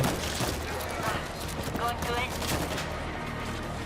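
Rapid gunfire from a co-op zombie shooter set in Rome fills the mix in dense bursts, with players talking over it throughout.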